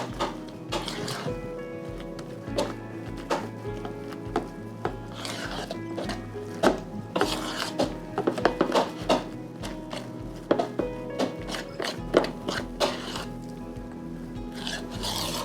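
A spoon or spatula scrapes and thumps through dense, heavy peanut butter pie filling in a bowl, a rhythmic rubbing mix close up with occasional sharper knocks against the bowl.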